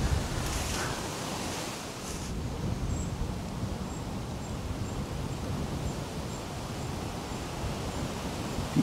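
Strong wind blows outdoors by the Danube, a steady broadband roar of wind noise buffeting the microphone throughout, with no speech.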